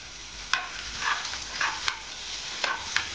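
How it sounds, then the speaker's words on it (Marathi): Crushed garlic dropped into hot oil with bloomed cumin seeds while cooking stuffed brinjal masala, giving a steady close sizzle with a few sharp spatters and stirring scrapes, no talking. "याच्यामध्ये आपण ठेचून घेतलेला लसूण टाकून घेणार आहोत।"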